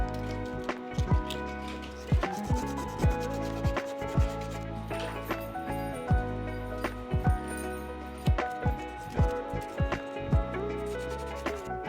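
Sandpaper rubs across a vintage 1965 Mercedes 300SL diecast model during restoration, a close, scratchy rhythm of repeated strokes with knocks and brief pauses between them.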